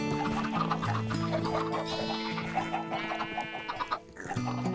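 Minecraft chickens crowded on a full farm block cluck repeatedly in a dense, overlapping chorus, steady and fairly close, mixed with other game sounds and no speech.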